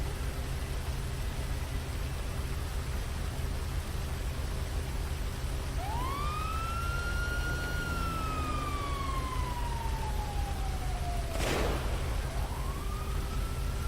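A single police siren wail during a stolen-vehicle chase sweeps up and slowly falls against steady radio hiss, followed by a sharp burst and the start of another wail, distant and faint.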